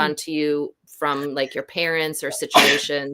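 A single sharp sneeze bursts out partway through a person's speech during a live talk session about quantum healing, loud and close, with talking before and after it.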